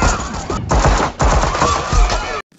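Dense, rapid gunfire rattles through a shootout in the 2024 film Kraven the Hunter, loud and nearly continuous with two brief gaps before cutting off abruptly.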